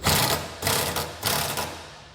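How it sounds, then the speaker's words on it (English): A 14mm socket wrench tightens bolts on a Demco Hijacker Autoslide 5th wheel trailer hitch base, giving quick repeated ratcheting bursts in a steady rhythm, close and fairly loud, with no talking. "you can tighten everything down. I'm using a 14mm socket."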